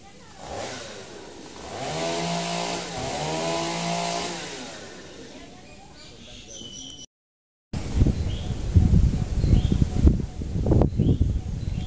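A chainsaw cuts large tree branches outdoors at night, its whining engine rising and falling in pitch through long revs, then giving way after a brief gap to rustling and crackling of falling limbs amid wind.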